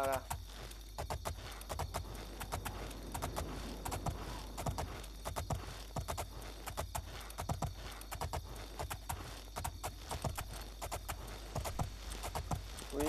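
Horse hooves clip-clop steadily on the ground in the video game Oblivion, a continuous rhythmic walking beat at moderate volume over faint ambient game sound.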